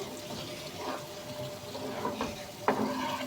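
Quiet frying in a pan with a few soft scrapes and stirring knocks, including one sharper clink near the end, all low and close with no speech.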